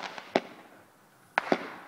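Fireworks bang outdoors at a cottage, one sharp report early on and then a quick pair of loud cracks later, with faint rumbling in between.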